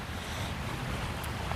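Wind gusts buffet a tarp shelter outdoors, giving a continuous rough, flapping roar that stays loud and even across the short stretch.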